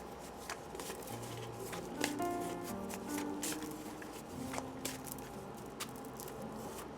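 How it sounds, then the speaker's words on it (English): A deck of tarot cards is shuffled by hand in a quiet room, a soft continuous riffling and patter of cards with small taps, close and low in level. "So I'm going to shuffle."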